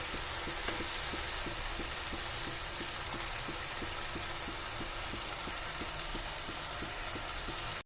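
Ginger garlic paste fries in a pan for a fish dish, giving a steady, dense sizzle with a faint regular ticking running underneath, close and continuous throughout with no voices.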